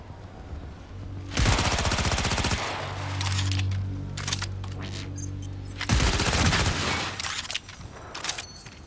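Loud automatic gunfire in a Cyberpunk video game firefight, two long sustained bursts of rapid shots with a lower rumbling stretch between them and scattered shots at the end.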